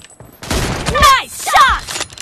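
Rapid gunfire bursts from a multiplayer shooter video game, two loud volleys in quick succession, close and punchy over steady game background noise.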